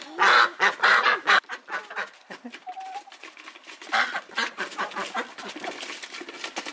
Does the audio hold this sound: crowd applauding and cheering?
no